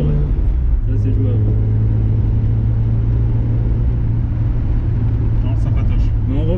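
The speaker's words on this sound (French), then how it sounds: "t'as la sonorité métallique typique des BM" A BMW E30 325i with a metallic-toned exhaust drones loudly and steadily, its engine rumble holding a constant pitch with a slight shift near the end, while voices talk over it.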